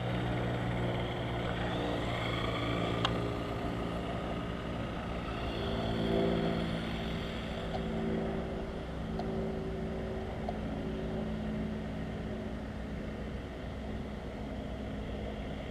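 A 1/5 scale Rampage V3 RC truck with high gearing runs after a push start, its engine whining steadily at moderate distance outdoors, with no voices.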